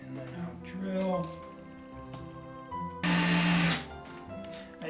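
A Makita drill bores into a wooden owl box during assembly, a loud dense whine that lasts about a second after a stretch of quieter handling noise and a voice talking.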